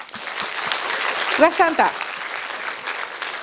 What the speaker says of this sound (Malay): Yes, tepuk tangan.